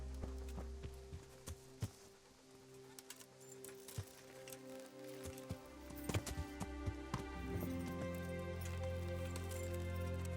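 Horse hooves clip-clop at a steady walk in the medieval game Kingdom Come: Deliverance, close and moderately loud, with a low droning ambience underneath and no talk.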